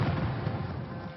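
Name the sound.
ceremonial cannon fire at Queen Mother's funeral procession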